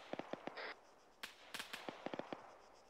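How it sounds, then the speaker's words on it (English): Gunfire in the military shooter ArmA 3: sharp single shots and short bursts, some distant and some closer, scattered irregularly over a few seconds with one longer crackling burst, no talking. "I'm shooting at tracers, wait."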